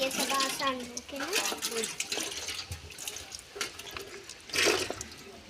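Water runs from a tap while hands and a fish are rinsed and washed, a steady splashing stream with bursts of louder spray, and a voice speaks over it at the start.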